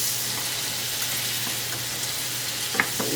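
Sliced garlic browning in hot oil in a pan, a continuous close sizzle with light crackles and a couple of brief clinks near the end, no talking.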